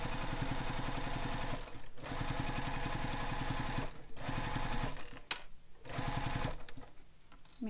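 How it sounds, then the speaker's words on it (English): A sewing machine stitches a bag seam past a dart, with backstitching at start and stop, running steadily in close, loud bursts separated by three short pauses. "you're going to sew all the way down, going just past the dart"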